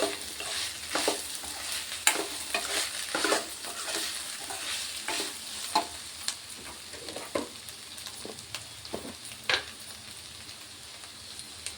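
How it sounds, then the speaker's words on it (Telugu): Spiny brinjal pieces cook in a pan, giving a steady soft sizzle with repeated scraping stirs from a spoon at close range and no voices. "ముళ్ళ వంకాయ ముక్కలు అయితే మంచిగా ఉడికాయండి"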